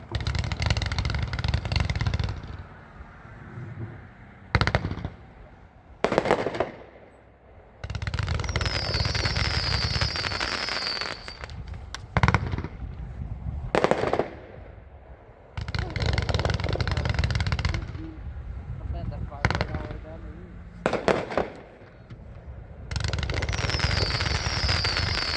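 Fireworks demo of Off the Charts, a 192-shot cake, firing in loud bursts of rapid shots: several stretches of dense crackling and booms broken by short pauses, with a few sharp single reports between volleys.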